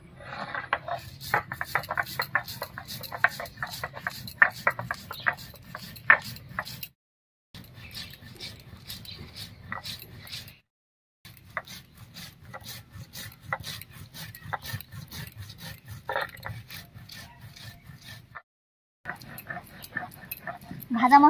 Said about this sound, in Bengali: এবারে ভাজা মশলাটা বেটে নিচ্ছি।